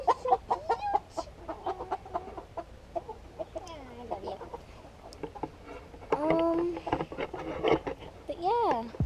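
Backyard chickens in a desert food forest cluck and call intermittently at close range while they are being fed, mixed with people talking nearby.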